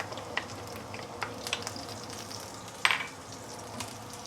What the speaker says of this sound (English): So we are using the prawn oil to saute the ginger right now.